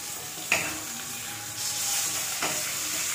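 Urad dal and chana dal frying together in hot oil for a South Indian dish, a soft steady sizzle with a couple of sharp stirring clinks of a spoon against the pan, close and fairly quiet.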